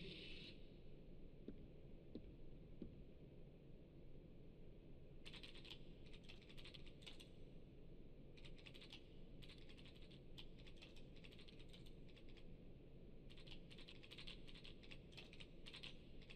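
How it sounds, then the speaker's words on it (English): Typing on a computer keyboard in the Kingdom Hearts II video game sounds as several quick bursts of soft, rapid key clicks, separated by pauses, over a steady background hum. "I love how unsynchronized the typing and the password thing is"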